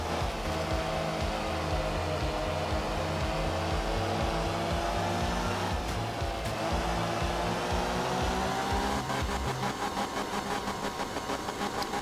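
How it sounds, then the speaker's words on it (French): A Mini's small engine in Art of Rally bounces rapidly off its rev limiter, a buzzing, stuttering drone held close and loud, its rhythm shifting midway. "J'aime bien le rupteur de la Mini."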